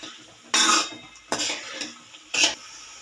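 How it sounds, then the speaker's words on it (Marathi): Sprouted moth beans being stirred in a pan, with three distinct bursts of spatula scraping and clinking against the metal, close and fairly loud, separated by short quiet gaps. "मटकी टाकून घेतलेली आहे मटकी आपल्याला व्यवस्थित परतून घ्यायची आहे"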